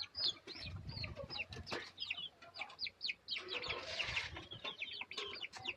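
Chickens and chicks cluck and cheep in a rapid, overlapping chatter close by, faint overall, with a brief burst of rustling or flapping in the middle.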